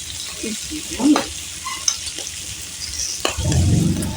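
Food sizzling and frying on a Thai moo kratha grill, a steady close hiss with stirring scrapes and a louder surge of sizzle near the end.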